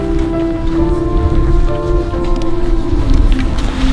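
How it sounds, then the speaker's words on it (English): Steady rain starts falling at a campsite, a dense, even hiss of drops on surfaces that fills the whole stretch without voices. "We made it just right as the rain started."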